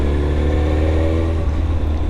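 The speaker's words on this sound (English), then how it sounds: "This is a mighty beautiful bike." A Suzuki GSX-R1000 K2 sportbike engine heard while riding, a loud steady drone with a slight lift in pitch, mixed with wind rush.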